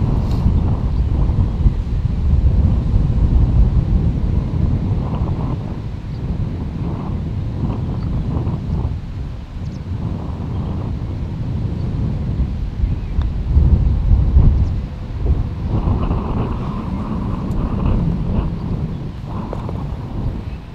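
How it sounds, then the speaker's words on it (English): Strong wind gusting across an open seaside golf course, with continuous loud roaring buffeting on the microphone. "God, is the wind blowing now."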